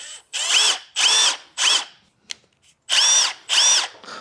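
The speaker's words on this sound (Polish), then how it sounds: "To jest zakrętarka udarowa." A Milwaukee impact driver is triggered in five short bursts, each a loud, close whirring rev lasting about half a second, separated by brief silences with a small click in the middle and no talking.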